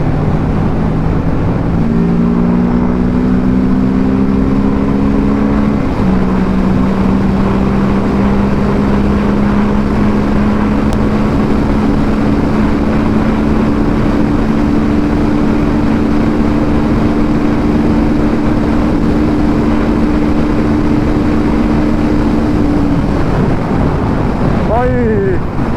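Kawasaki Ninja motorcycle at full throttle, a loud sustained engine drone that steps up in pitch once as it shifts, then holds a long high-speed whine under heavy wind roar before easing off at the end.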